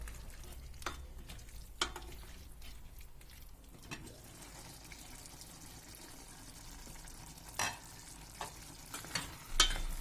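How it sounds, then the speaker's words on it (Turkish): Zucchini with garlic and tomatoes sautéing in olive oil in a pan gives a faint, steady sizzle and hiss, broken by a few sharp clicks and scrapes of stirring. "sarımsağını da ekliyorum. Bir 5 dakika da bundan kavrulacak"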